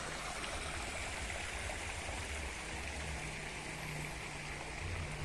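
A river stream flows over rocks through a leafy village grove with bamboo and forest trees, a steady, dense rushing and babbling of water that fills the whole clip with no voices.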